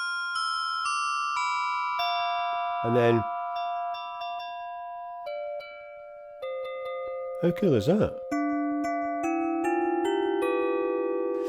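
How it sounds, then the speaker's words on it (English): Arturia Pigments 6 software synth plays bright, ringing bell tones on a virtual keyboard, a series of clean sustained notes changing pitch, with a person speaking briefly between them. "it's very nice bell sound, I have to say."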